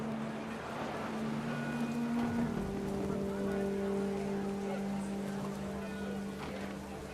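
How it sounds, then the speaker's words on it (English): Heavy rain in the video game What Remains of Edith Finch, a steady wash of rainfall under droning tones and music, with faint speech woven through. "Rain came down in buckets then"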